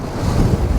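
Cold wind buffets the microphone on a mountain hike up Ingleborough in the Yorkshire Dales. It makes a loud, close, continuous low roar through the whole short moment, with no voices.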